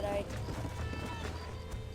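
Horse hooves clip-clopping at a steady walking rhythm in the Western video game Red Dead Redemption 2, close and moderately loud over ambient outdoor game sound.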